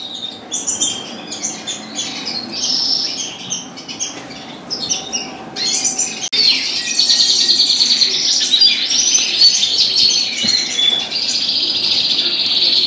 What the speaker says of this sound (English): I have some young canaries.